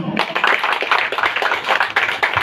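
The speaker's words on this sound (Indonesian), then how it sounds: "tepuk tangan untuk beliau" A small audience at a ribbon-cutting thanksgiving ceremony for an NGO secretariat office in Indramayu claps for Ibu Intan, loud, close, uneven hand claps in a short burst of a few seconds.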